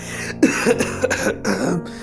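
A series of rough, throaty coughs and throat-clearing sounds, close and fairly loud, coming in quick repeated bursts.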